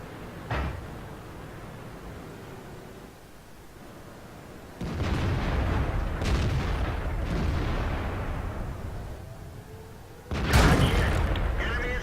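Tank cannons fire in the World of Tanks video game during a T32 battle: three heavy booms spread over several seconds, over a steady rumbling engine-like background.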